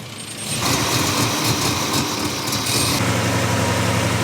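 A dually pickup truck's engine idles high at around 1500 rpm, its timing well advanced and idle air control suspect, humming and vibrating steadily up close after a brief quieter start.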